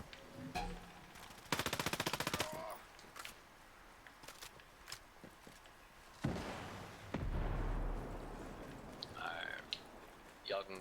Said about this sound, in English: Oh, yeah, they're shooting.